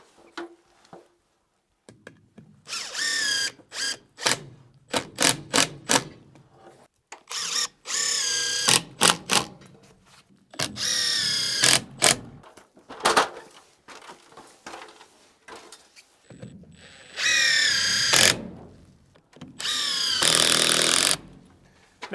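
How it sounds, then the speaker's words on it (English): A power drill drives GRK structural screws into timber on a large garage build, in repeated loud bursts of whirring with short pauses between, the longer runs near the end. "and then we'll go ahead and drill them or screw them right in without any worries."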